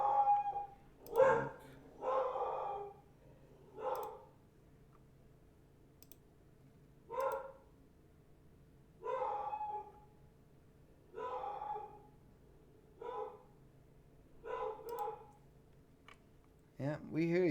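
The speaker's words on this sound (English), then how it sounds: "Oh, there goes my dog." A dog barks repeatedly indoors, about a dozen spaced, fairly loud barks with short gaps, over a quiet background hum.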